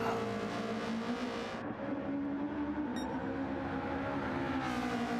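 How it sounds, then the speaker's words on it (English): A race car engine revs out in third gear during a multi-class endurance race at Road Atlanta, a loud, steady, rising mechanical drone with harmonic whine that dips briefly, then climbs again. "He's in third gear, revving it out."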